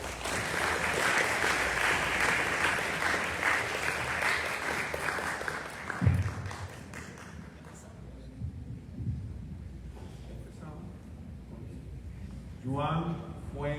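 An audience at a talk with a Dominican writer applauds in sustained, dense clapping that slowly thins out, and a voice then begins speaking over the last scattered claps.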